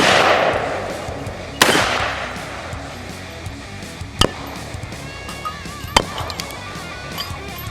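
Rifle shots from a 5.56 62 grain light armor penetrator round strike a steel target, three sharp loud cracks spaced a couple of seconds apart, each followed by a ringing decay and fainter clatter.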